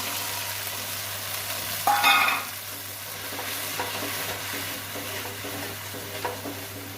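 Spice paste being stirred and fried in oil in a pan while cooking paneer, a steady close sizzle with a brief louder scrape of stirring near the start and soft scraping throughout, no talking.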